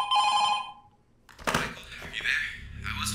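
An old-style telephone bell rings in the FNAF 2: Reimagined horror video game, a harmonic ring for about a second, then a pause before clattering game sounds and muffled noises follow.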